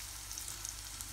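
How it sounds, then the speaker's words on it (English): Bananas caramelizing in sugar and butter in a very hot pan for a banoffee pie give a steady, soft sizzle with faint crackles, quiet and continuous and with no talk over it. "Beautiful caramelization on the bananas."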